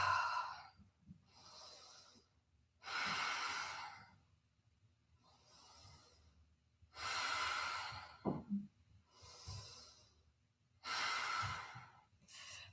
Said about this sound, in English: Keep breathing into it.